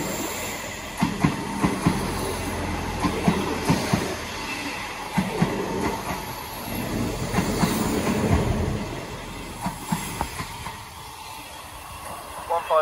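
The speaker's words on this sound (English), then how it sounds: "Next train in is a set of 159s." A Class 159 diesel multiple unit pulls into Woking station on the South Western Main Line, its wheels rumbling and clicking over the rails with faint squeals, steady throughout amid open platform ambience.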